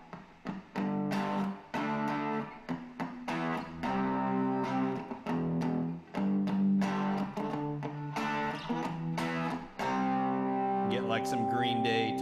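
Electric guitar played through a fuzz pedal, a run of distorted, sustained chords and riffs that stay loud throughout, with a brief squealing bend near the end.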